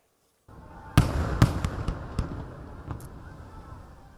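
Fireworks display over the sea at Lignano Pineta, a traditional pyrotechnic show: several loud bursts and crackles, with sharp booms near the start, over a steady background of crowd and ambient noise.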